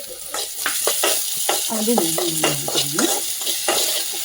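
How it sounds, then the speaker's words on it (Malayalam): Mushrooms sizzle and fry in a pan while a utensil stirs and scrapes through them in irregular strokes, close and fairly loud, with a brief word spoken over the cooking. "ബ്രൗൺ കളറായി ഇനി ഇതിലോട്ട് നമുക്ക് കൂണിട്ട് കൊടുക്കാം."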